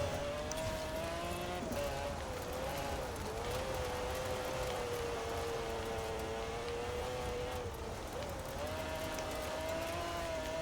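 An F1 race car in Forza Horizon 4 screams along at high revs, its engine tone holding steady with slight dips during shifts, loud and continuous under a constant rush of road noise.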